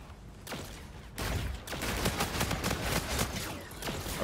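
Akimbo shotguns firing in Call of Duty: Infinite Warfare gun game mode: dense, rapid blasts in overlapping bursts, loud and continuous after a short, quieter opening.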